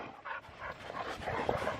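A nearby dog pants in short rapid breaths and lets out thin, whiny whimpers, fairly loud and unbroken by speech.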